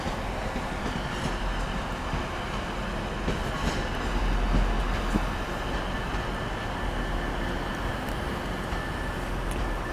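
A Class 185 train at Manchester Piccadilly station gives a steady, moderately distant rumble with faint rail clatter and the occasional high squeal from the wheels.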